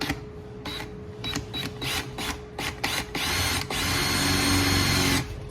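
A power drill bites into metal to make a small starter dent for a mini bike build, with a close, loud whirring buzz in short bursts followed by a longer sustained grinding run.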